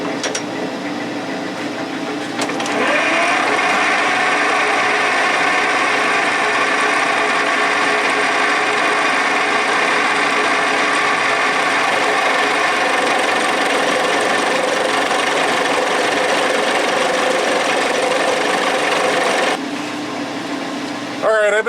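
A metal lathe turns a vintage 1983 Polaris Indy 600 snowmobile drive shaft while it is polished: the motor starts with a rising whine, holds a loud, even hum for about seventeen seconds, then cuts off.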